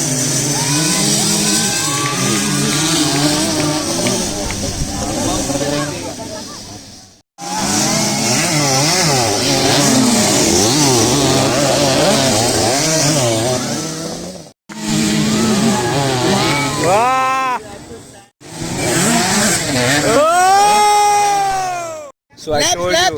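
A two-stroke motocross bike engine revs hard while riding through mud, a loud, raspy, rising and falling whine in long bursts with brief cutoffs and sharp throttle sweeps near the end.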